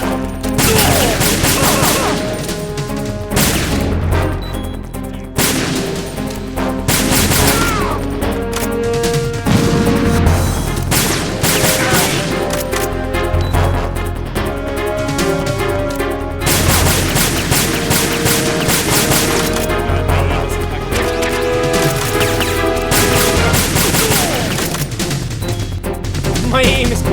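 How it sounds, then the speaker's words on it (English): Gunfire in the Metal Gear Solid 2 video game, dense and loud bursts of shots and impacts with heavy game sound continuing throughout, with no clear talking. "They want me to use the pistol so bad."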